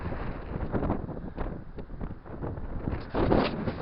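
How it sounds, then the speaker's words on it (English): Wind blows across the Angus coastline in Scotland beside an ancient red castle on a warm, rainy January day, a steady, rough buffeting rush with gusts that strengthen toward the end, with no speech. "it's windy and rainy right now"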